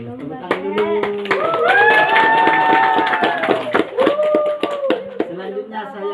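Students clap together at a junior high school student council election, with a dense burst of hand claps mixed with excited young voices shouting and cheering over the whole stretch.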